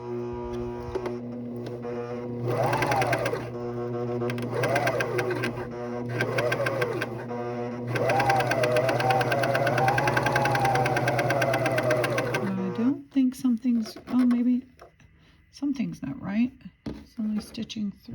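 A Juki MC 1500 coverstitch machine running with three needles: bursts of fast, steady mechanical stitching, close and loud, broken by pauses. Near the end a person talks between short runs.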